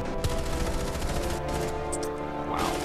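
Dense gunfire in the tactical shooter Rainbow Six Siege, a loud, continuous volley of shots with a sharp crack early on, filling the whole moment without pause.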